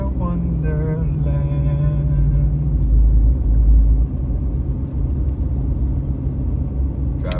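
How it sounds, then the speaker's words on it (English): A car drives through a heavy blizzard, its engine making a steady low rumble with a constant road drone, no voices, holding at an even level throughout. "Driving in a winter wonderland."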